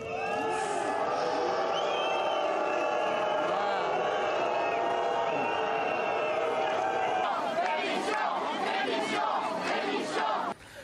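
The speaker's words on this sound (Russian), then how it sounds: "их начали освистывать и очень громко кричать «Отставка!»" A large outdoor crowd in Nice jeering at the French prime minister, loud sustained booing and rhythmic chanted shouts that rise near the end, with voices mixed into the roar.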